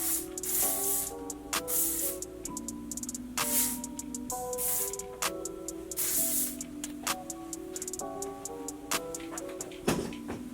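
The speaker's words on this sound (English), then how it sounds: "So I'm gonna go in and really saturate these bangs with some aerosol hairspray." Aerosol hairspray hisses onto hair bangs in repeated short bursts over quiet background music, several sprays in close succession.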